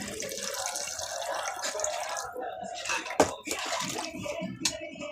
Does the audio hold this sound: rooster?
no